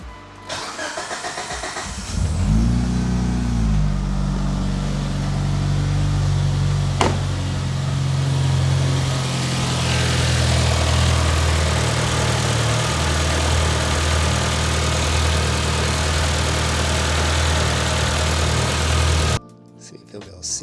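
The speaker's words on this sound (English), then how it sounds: "Start it up and verify we ain't got no leaks." A Mitsubishi Evo 8 engine cranks and catches at about two seconds, then settles into a loud, steady, close idle that runs on until it cuts off near the end; no one speaks.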